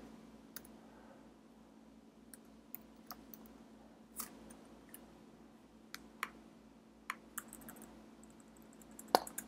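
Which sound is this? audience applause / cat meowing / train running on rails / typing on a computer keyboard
typing on a computer keyboard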